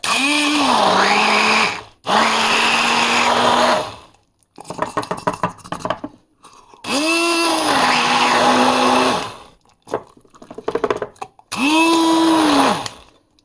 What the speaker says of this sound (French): Maintenant, je vais le mixer. Allez, je vais mixer la petite sauce.